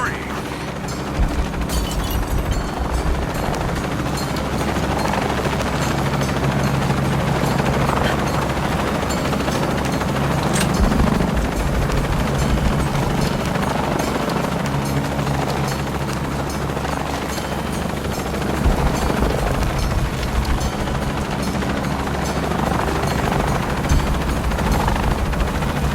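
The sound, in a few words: helicopter in video game Shadow of the Tomb Raider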